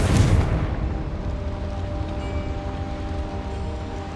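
A Confringo blasting spell in Hogwarts Legacy goes off in a single loud, deep explosive burst, then fades into a lingering rumble under a steady ambient drone.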